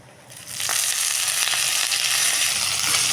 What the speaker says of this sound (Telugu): ఇప్పుడు కరివేపాకు కడిగి ఆరబెట్టుకుంది ఒక గుప్పెడు వేసేసుకున్నాం